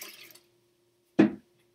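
Warm water poured into a bowl for bread dough, a single brief splashing gush near and alone after a short faint sound at the start.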